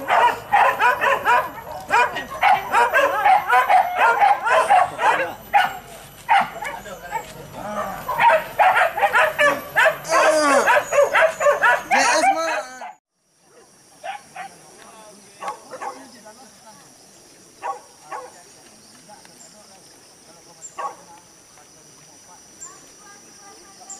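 Hunting dogs on a hunt bark loudly in a dense, overlapping chorus with yips and whimpers for about twelve seconds, then the barking drops to scattered, more distant calls; people talk throughout.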